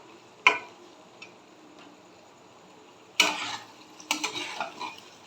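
A spoon stirs paneer cubes into oily masala gravy in a pan, giving a sharp scrape near the start and then two longer bursts of scraping and clattering later on, with quiet gaps between them.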